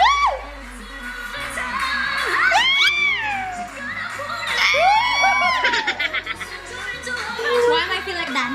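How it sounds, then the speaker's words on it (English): A crowd at a singing audition screams and cheers loudly, with high shrill whoops and yells rising and falling over a murmuring audience, plus a quick burst of rhythmic shouts. "When I heard them screaming"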